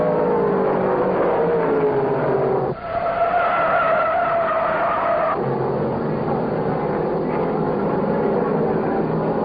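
A modified race car spins out at Martinsville in a 1968 race, tires skidding in long squealing sweeps as engines roar loudly and steadily in the background.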